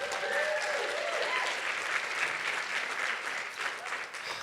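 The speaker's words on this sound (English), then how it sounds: "Can I get another round of applause for Jonathan Gold" Sustained applause from a seated audience at a food-access talk in Los Angeles, dense even clapping filling the whole stretch, steady and fairly loud with no voices over it.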